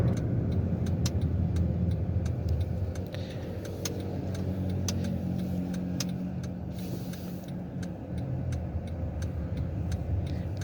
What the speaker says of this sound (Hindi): अब मैं गाड़ी को टर्न करते हुए आपको इसका टर्निंग रेडियस भी चेक कराता हूँ।